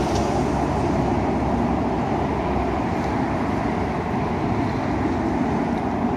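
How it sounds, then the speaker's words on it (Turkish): Roadside traffic along a Turkish cycling route rumbles steadily as cars pass close by, a continuous broadband roar with no talk over it. "Çok araba geçiyor ya. Bu araba seslerinden."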